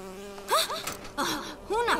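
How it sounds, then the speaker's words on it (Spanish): A bee buzzes in a video game, a faint, wavering insect drone that swells in a few short passes over a low background hum. "Una abeja, odio a esos bichos."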